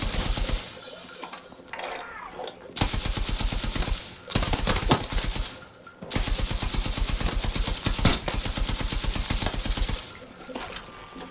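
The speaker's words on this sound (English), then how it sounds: "He's got an LMG of some kind." Light machine gun fire in a Battlefield 6 match, long rapid bursts of evenly spaced shots rattling loud and close, broken by brief pauses and scattered single impacts.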